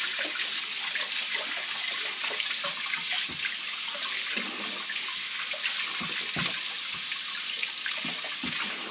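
A tap runs steadily while a juicer part is scrubbed clean with a used lime, a constant splashing hiss of water with faint knocks and rubbing sounds underneath, close and continuous.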